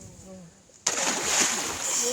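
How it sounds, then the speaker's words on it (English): Splashing in shallow, knee-deep water on a wild farm in Australia: a sudden burst of sloshing water partway through that carries on steadily and fairly close until the end. "Splash here, he starts to come forward a little bit."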